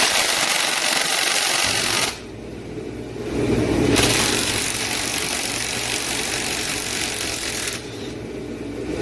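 A cheap pneumatic impact wrench hammers on the head bolts of a small-block Chevy 350 engine during a teardown, with two long, loud rattling bursts over the steady hiss of an air compressor.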